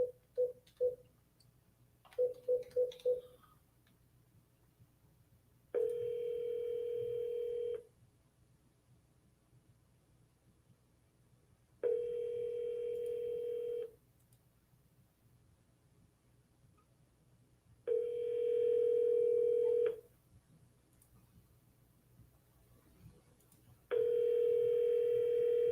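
Telephone call ringing out before reaching voicemail: a few short dialing beeps, then four long, evenly spaced ring tones with silence between them.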